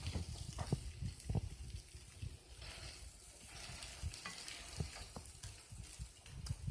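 A Western omelette frying in a very hot skillet gives a steady sizzle and crackle, with soft scrapes and pops rising and falling throughout at close range.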